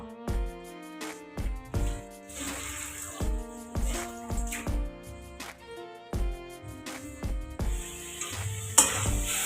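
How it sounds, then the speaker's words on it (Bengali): Rui fish being sautéed with spices after half a cup of water goes into the pan, with repeated scraping, stirring knocks and clinks over a steady sizzle, loud and close throughout. "মাছটা দেওয়ার পর এটা একটু কষিয়ে নেব তাই জল দিয়ে দিলাম অর্ধেক কাপ"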